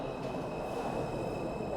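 A New York subway train riding along, giving a steady, continuous rumble and rattle of the car with a faint high whine, with no talk.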